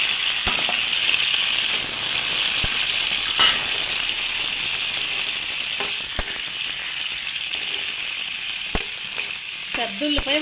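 Tomatoes and green chillies frying in oil, a loud, steady hissing sizzle held close throughout, broken by a few sharp utensil clicks against the pan.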